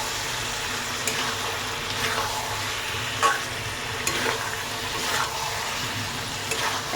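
Chicken fries in a pan with coriander powder, a steady close sizzle under repeated scraping strokes of a spoon stirring through it, with no talking.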